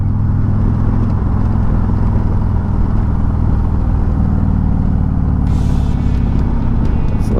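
A Harley-Davidson Road Glide 3 motorcycle rumbles at low speed while being maneuvered back into a demo ride staging area, a loud, steady, deep engine drone close to the microphone.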